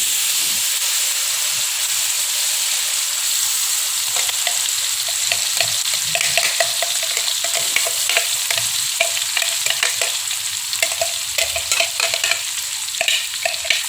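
Blended spice paste sizzles and fries steadily in a pan for a spicy stir-fried tuna with cassava leaves, with bursts of crackle and stirring scrapes growing busier partway through; no voices.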